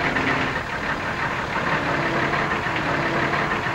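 A lorry engine runs steadily nearby with a rough, knocking idle, holding a constant mid-pitched mechanical drone without voices.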